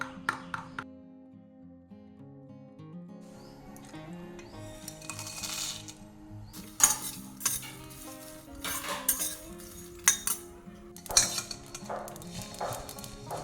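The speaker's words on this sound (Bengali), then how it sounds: "দু চামচের মতন বেসন দিলাম এটা ভালো করে মিশিয়ে নেবো" A metal spoon mixes curd with gram flour in a bowl for doi bhindi, making repeated sharp clinks and scrapes against the bowl in irregular bursts, close and clear.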